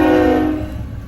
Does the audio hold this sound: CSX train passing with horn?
yes